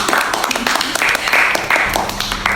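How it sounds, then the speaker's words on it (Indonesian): Podcast hosts clap for themselves in a small studio, a brief burst of close hand claps that runs the whole moment alongside chatter and laughter. "Tepuk tangan buat diri kita sendiri."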